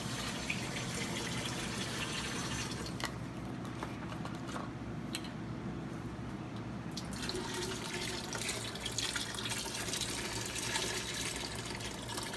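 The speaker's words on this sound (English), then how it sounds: "32 ounces of beef stock" Liquid pours steadily into a cooking pot as 32 ounces of beef stock go in for a Cajun meatball stew, a continuous splashing gush that thins briefly midway before running full again.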